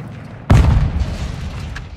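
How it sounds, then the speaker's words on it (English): A single heavy grenade blast in a video game thumps in suddenly and loudly, followed by a rumbling low tail that fades slowly over the next second and a half. "Who's throwing grenades out here?"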